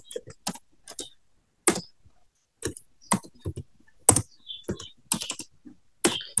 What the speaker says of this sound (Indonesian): jika kita ingin memasukkan input lagi, maka kita mengetikkan Y, yaitu yes